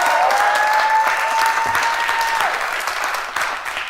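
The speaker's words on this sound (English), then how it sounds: "a bunch of people clapping" A studio audience at the Ellen DeGeneres Show claps loudly and steadily, dense applause with a high whistle over it that slowly thins toward the end.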